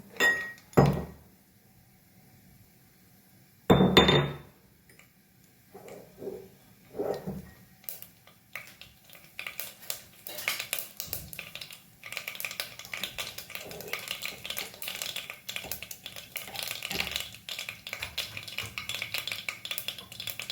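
Mustard seeds added to about four spoonfuls of hot oil in a pan for a cauliflower-potato curry: a few close clinks and knocks first, then a steady, spreading crackle of popping and sizzling that continues to the end.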